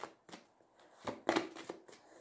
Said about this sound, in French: On va tirer les cartes